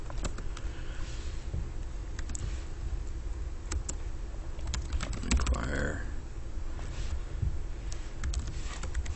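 Steady typing on a computer keyboard, a run of light, rapid key clicks with scattered sharper taps, close and fairly quiet over a constant low hum, with no speech.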